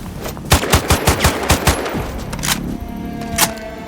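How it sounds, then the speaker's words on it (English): Automatic gunfire in the Sniper Ghost Warrior Contracts 2 video game: a rapid burst of about eight loud, evenly spaced shots, then a couple of scattered single shots with a lingering mechanical hum. "I hear shots nearby."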